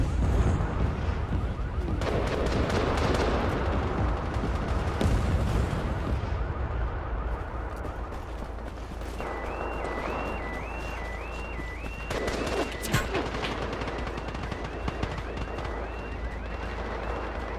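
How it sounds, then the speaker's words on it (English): Artillery fire in a video game booms repeatedly in irregular bursts, heavy muffled blasts layered with crackling shots, while a warbling tone runs through the later part. "Our artillery is commencing fire."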